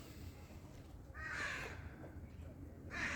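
Two loud crow caws, a short pair then another call a moment later, over quiet low background noise.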